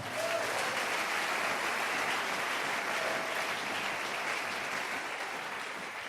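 A church congregation applauds to acclaim the Lord, a continuous, even wash of clapping that stays steady and fairly distant before easing slightly at the end.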